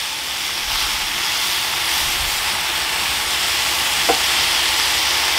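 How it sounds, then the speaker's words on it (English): Loud, steady sizzling and hissing of food frying in a cast iron pan, close up, with a brief scrape partway through. "Yeah, buddy, hear that sizzle."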